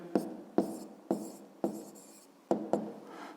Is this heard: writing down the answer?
yes